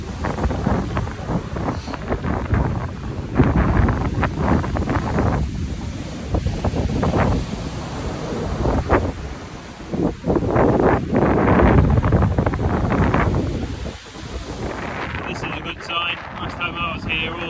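Choppy sea waves roll and break on a Yorkshire coast beach below cliffs, with strong wind buffeting the microphone in loud, continuous gusts throughout.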